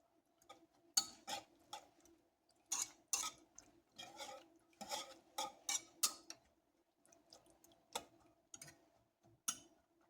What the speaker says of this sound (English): I'm going to use my whisk for this.